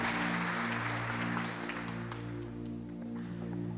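Applause in a church service, a faint, steady wash of clapping from the congregation over a low constant hum, lasting a few seconds.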